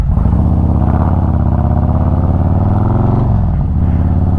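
A motorcycle fitted with a new hydraulic clutch idles and revs up close, its loud steady engine drone shifting pitch near the end as it goes through a gear change, no voices.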